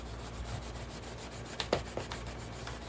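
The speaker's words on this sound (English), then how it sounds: "Again, the sanding was done mostly to level the surface" Hand sanding and scrubbing with downward pressure on a metal surface, a steady soft rasping rub of repeated strokes, fairly quiet over background hum, with a few sharper scrapes near the end.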